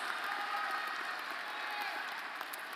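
Graduation ceremony audience clapping during a commencement, a steady, fairly distant wash of applause from a large hall crowd with no distinct individual claps.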